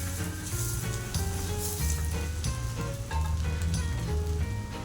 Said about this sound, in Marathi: आता अर्धा चमचा हळद घालू आणि पुन्हा चांगलं परतावून घेऊ